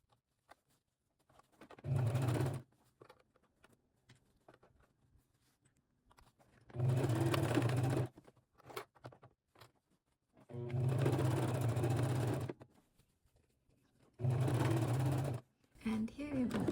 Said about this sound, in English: we start stitching from the top